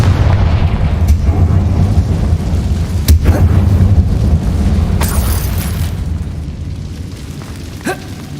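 Confringo blasting spells explode inside an abandoned mine in Hogwarts Legacy on PS5, heavy booming blasts at intervals over a deep rumbling game ambience.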